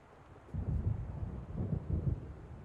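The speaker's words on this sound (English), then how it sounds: "It seems there's a storm coming." Low rolling rumble of an approaching thunderstorm in Alan Wake Remastered, deep swelling thunder surging in two waves over a faint windy background, fairly distant and unaccompanied by voices.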